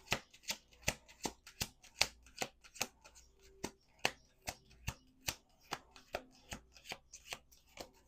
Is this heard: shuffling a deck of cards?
yes